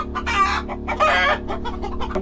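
Off-grid farmyard chickens clucking in loud, overlapping bursts with a rooster crowing among them, close and busy over a steady low hum, no voices.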